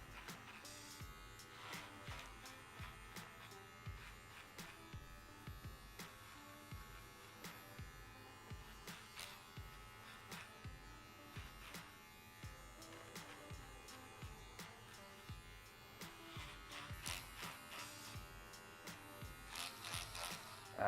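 Electric hair clippers fitted with a number 3 guard cut away the bulk of a long, thick head of hair for a low fade, buzzing steadily and close throughout with brief changes in pitch as they pass through the hair.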